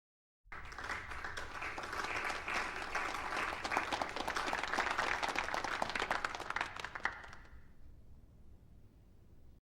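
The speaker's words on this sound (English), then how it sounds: "That was not really a heartfelt applause." A crowd in the TV series Rome gives an unenthusiastic round of applause, a dense steady patter of many hands that holds for several seconds and then thins away into quiet.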